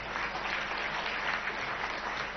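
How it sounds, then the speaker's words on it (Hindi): An audience at a residential school inauguration ceremony claps loudly in a continuous, dense wash of applause to welcome a Rajya Sabha member, steady throughout with no voices on top. "जोरदार ताली से स्वागत करिए"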